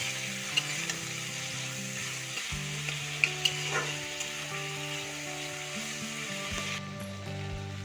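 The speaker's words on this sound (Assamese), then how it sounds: "এতিয়া দি দিছোঁ শুকান মাছখিনি। এইখিনি অলপমান ভাজি ল'ম।" Dry fish frying in a pan for an Assamese curry gives off a soft, continuous sizzle, heard alone with a faint steady hum beneath it.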